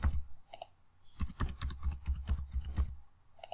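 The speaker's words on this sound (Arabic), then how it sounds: "نكتب كلمة المرور مرتين" A password being typed on a computer keyboard while setting up a Windows 10 sign-in. Close, quiet keystrokes come in short uneven runs with brief pauses, and nobody talks.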